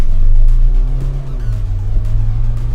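A Mahindra Thar Roxx SUV pulls away hard in a drag race against a Thar 4x4, its engine note rising and shifting in pitch over a loud, close rumble for a few seconds.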